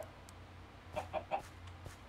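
Chickens in Minecraft cluck softly in a few quick, faint calls around the middle of a quiet stretch, with a low background hum underneath.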